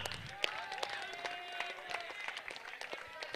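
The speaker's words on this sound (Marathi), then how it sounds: "टाळ्या होऊन जाऊ द्या." Audience applauding at a cricket tournament prize ceremony, a moderate spread of scattered claps continuing throughout, slightly distant, with a voice over the crowd.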